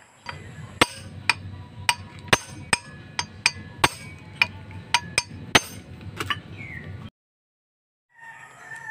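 A hammer strikes an impact driver to loosen a screw on a TMX 155 motorcycle, a series of about fourteen sharp metallic clinks at an uneven pace, close and loud, ending in sudden silence.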